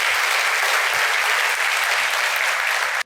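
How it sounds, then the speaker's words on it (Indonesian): Steady, dense applause from a large campus audience fills the whole stretch at full volume, an unbroken wash of clapping with no voice over it. "Kita berikan aplaus sekali lagi"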